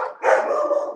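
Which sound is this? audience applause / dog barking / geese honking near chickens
dog barking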